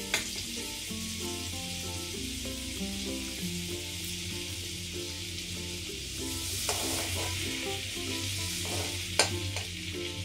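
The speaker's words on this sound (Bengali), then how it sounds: "তেলটা গরম হয়ে গেছে। এবার এতে আমি দিয়ে দিচ্ছি বাটার।" Butter hitting hot white oil in a wok for a moong and spinach dish sets off a steady, broad sizzle, with a low hum from the stove beneath and a sharp clink near the end.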